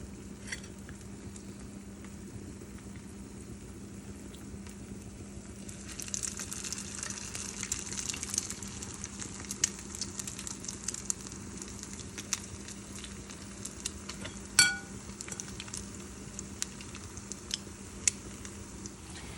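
Salmon patties frying in vegetable oil, a steady, quiet sizzle and crackle that brightens and thickens partway through, with a few sharp pops and clinks near the pan and no talking.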